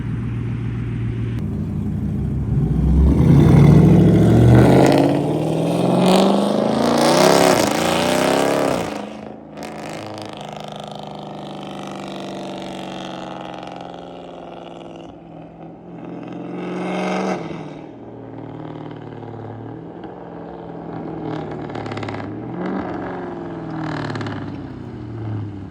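Exhaust fly-bys from a Dodge Charger Scat Pack and an SRT Jeep, loud roaring acceleration passing close by at first, then quieter, more distant engine rumbles and revs with no talk.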